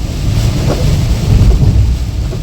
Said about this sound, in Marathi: खूपच डेंजर पाऊस आहे बघा